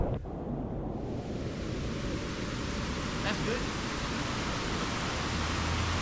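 A waterfall in Placerita Canyon State Park cascades into a creek with a steady, full roar of rushing water that stays constant throughout.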